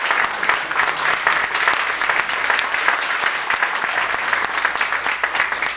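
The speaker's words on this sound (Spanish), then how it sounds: "Aquí está Ana Luisa Rubio, para la cual pido un aplauso" Steady applause from an audience at a short film fundraiser event, dense and continuous clapping close by that holds at the same level throughout.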